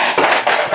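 A phone slides off a table and strikes the floor, a short run of hard knocks and clattering impacts close by with no talk over it.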